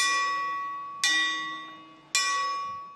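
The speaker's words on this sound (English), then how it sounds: "a single bell rings," A monastery bell struck three times at 3 a.m., each clear metallic strike ringing out and slowly decaying before the next, roughly a second apart, heard alone in a quiet setting.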